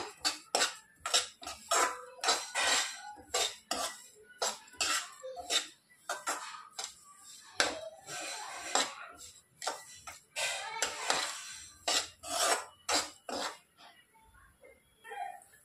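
Dry fruits fried in a pan for laddu crackle and pop in loud, sharp bursts with irregular spattering bangs and scrapes as they are stirred, close by, with a short quiet stretch near the end.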